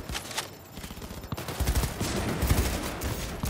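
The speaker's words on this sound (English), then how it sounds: "I'm shooting people legally." Rapid gunfire from the video game Cyberpunk, a dense burst of overlapping shots and automatic fire crackling continuously at moderate loudness.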